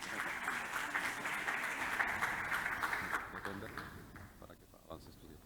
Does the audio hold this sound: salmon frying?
no